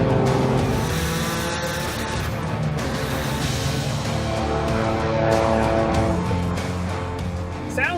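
A Radical race car engine roars steadily at around 140 mph on a test run, a loud, continuous high-revving drone that swells slightly as it goes, with no one speaking.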